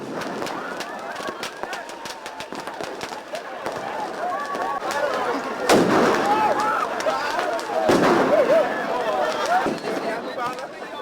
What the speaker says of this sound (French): Les feux d'artifice partent dans tous les sens.